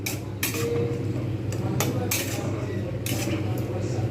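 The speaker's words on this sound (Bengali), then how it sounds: "এটাকে আমি এবারে ভালো করে নাড়াবো" A metal spoon stirs chili chicken with chili and spices in a pan, giving repeated clinks and scrapes against the cookware over a steady sizzle.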